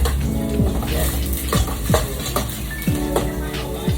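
Onions being sautéed in a pan for squid adobo, with steady sizzling and frequent scraping strokes of a spoon stirring them, close and fairly loud, with a few clinks of the utensil against the pan.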